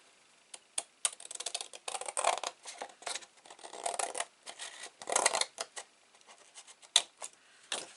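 Scissors cutting patterned paper for a handmade mini album, with irregular bursts of crisp snipping, sliding and rustling close up against a quiet background, no talk.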